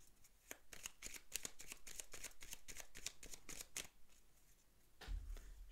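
Petit Lenormand cards are handled and shuffled close up, a quick run of soft, crisp card slaps and riffles for about four seconds, then a brief low rustle and thud as one card is set down.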